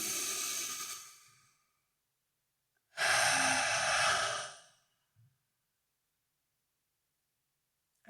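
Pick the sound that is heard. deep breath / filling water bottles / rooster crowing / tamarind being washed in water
deep breath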